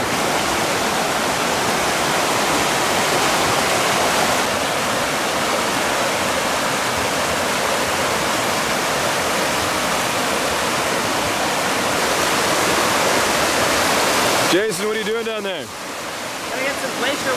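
A flowing mountain stream at Monkey Creek near Milford Sound, New Zealand, a steady close rushing hiss of water throughout, with a brief voice near the end.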